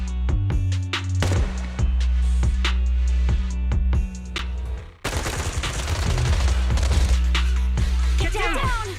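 Rapid bursts of suppressive gunfire in the video game Zenless Zone Zero, sharp repeated shots and volleys crackling loudly across the scene, mixed with game effects and voices talking.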